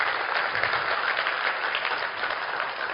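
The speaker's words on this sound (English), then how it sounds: "So, give him a big applause." Dense, steady audience applause fills the room at a business seminar, many hands clapping close and loud without a break.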